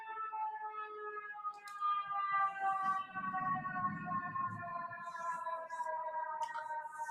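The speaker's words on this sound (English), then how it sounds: "Oh, it's siren time." An FDNY emergency vehicle siren wails in steady rising and falling harmonic sweeps, loud and fairly near, with a low rumble of passing traffic beneath it in the middle stretch.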